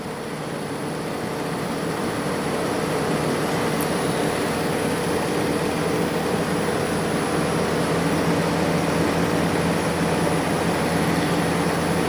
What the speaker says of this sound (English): It is now running. And there you go. Compressor's running.